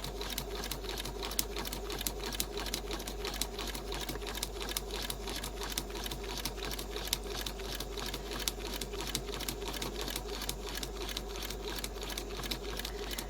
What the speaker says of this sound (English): I'm just stitching on the line.